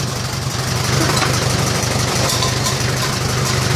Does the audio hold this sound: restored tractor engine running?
yes